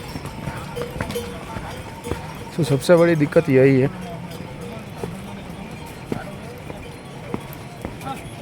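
Horses walking along the rocky Kedarnath trekking route give faint, scattered hoof clops beneath someone speaking Hindi nearby, with light outdoor background noise.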